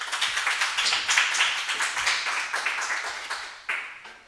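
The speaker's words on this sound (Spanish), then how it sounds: "Bueno, un gran aplauso para Susi." A crowd at an academic talk on research ethics applauds steadily, a dense wash of clapping that holds for several seconds before thinning out at the end.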